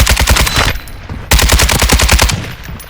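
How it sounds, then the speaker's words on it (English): Automatic gunfire in Call of Duty Warzone DMZ comes as two loud, sustained rapid-fire bursts separated by a brief gap, close and dominant. "Taking effective fire."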